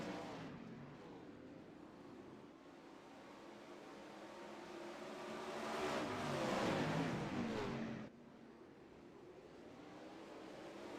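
Dirt track race cars in a sim racing game roar off at the green flag of a heat race, a dense engine drone swelling louder for a few seconds before dropping back to a steady hum.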